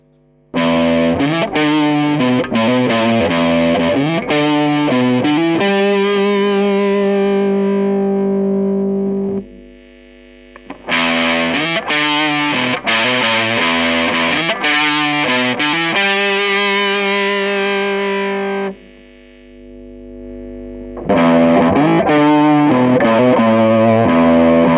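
An electric guitar runs through an Electro-Harmonix Big Muff fuzz pedal, giving loud, thick distorted strums and ringing held chords in three bursts separated by short pauses as the tone control sweeps from heavy bass to bright treble.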